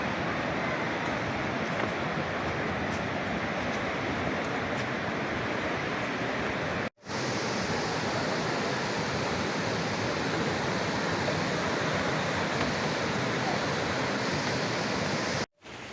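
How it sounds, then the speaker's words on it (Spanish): Spring water flowing down from the mountains toward the Semuc Champey pools, a loud, dense, continuous rush of falling water heard close up, with one brief cut in the sound. "Estos son los nacimientos de agua que bajan desde las montañas y de los cuales se alimentan las pozas de Semuc Champey."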